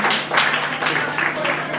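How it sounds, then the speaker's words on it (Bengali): Audience applause at a scholarship award ceremony in the Sundarbans, a dense, steady patter of many hands clapping close by for nearly two seconds without pause. "একবার জোরে হাততালি হয়ে যায় এনাদের জন্য।"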